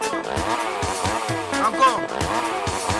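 A motorcycle engine revs hard in Korhogo, Côte d'Ivoire, the pitch rising and falling in repeated loud surges close by, with a rough, buzzing tone throughout.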